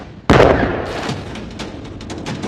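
A sudden loud blast opens into rolling, crackling booms and scattered pops that echo on and fade unevenly, from missile strikes.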